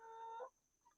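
A black sex link chicken in a pen gives a short, faint tonal cluck lasting about half a second, followed by a quieter brief call near the end.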